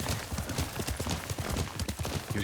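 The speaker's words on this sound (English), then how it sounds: "Yuriko's horse." Horse hooves clip-clopping in a steady, close rhythm in the video game Ghost of Tsushima, with a brief whinny, set in feudal Japan, loud and continuous with no talk over it.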